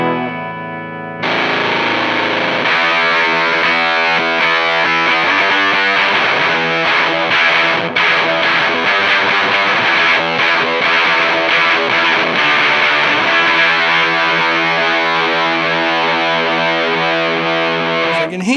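An electric guitar plays full chords through a Behringer Super Fuzz SF300 octave fuzz pedal, a thick, saturated, loud fuzz tone that starts after a brief quieter note and sustains with a slight wavering, with no talking.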